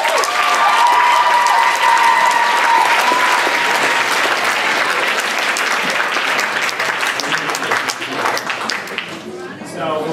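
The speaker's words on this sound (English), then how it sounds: "So one more round of applause for that." Audience applause at a spring concert fills the room, a loud, sustained wash of clapping from a large crowd that holds steady for about ten seconds before starting to thin out near the end.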